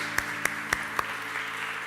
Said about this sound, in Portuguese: Louva Ele com as tuas palmas, em nome de Jesus.